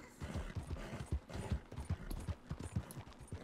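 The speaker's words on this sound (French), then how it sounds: "Il y a deux chevaux, une charrue et un embouteillage." Two horses pull a plough in Red Dead Redemption II, with a steady stream of close, moderately loud hoof clops in an uneven trotting rhythm and faint mechanical rattling, without talk.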